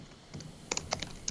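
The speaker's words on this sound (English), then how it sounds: "I can hear you typing. Like, it's very loud." Loud clacking of computer keyboard keys in irregular bursts, several sharp taps close to the microphone over a quiet background, with no voices.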